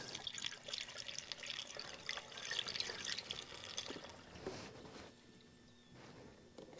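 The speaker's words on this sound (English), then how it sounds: "And now we just want to slowly fill the coolant." Coolant being slowly poured into the cooling system of a BMW N54 engine, giving a soft, continuous trickling and gurgling splash of liquid that is faint, close, and uneven, with small drips near the end.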